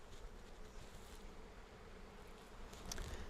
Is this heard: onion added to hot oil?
no